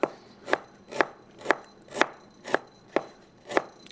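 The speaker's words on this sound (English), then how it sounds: "just cut some thin slices of fresh ginger" A knife cuts fresh ginger into thin slices on a board in eight crisp, evenly spaced chops, each about half a second apart, close up and clear with no talking.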